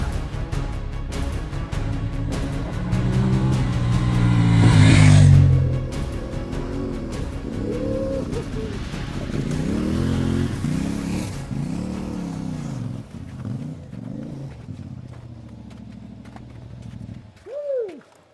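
A CFMOTO 450MT adventure motorcycle engine revs through gears under way, its note rising and falling in repeated sweeping pulls with a strong surge, loud and close over wind rush, then easing off to a lower drone.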